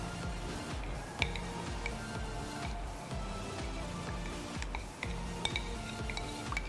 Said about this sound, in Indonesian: setelah itu kita aduk.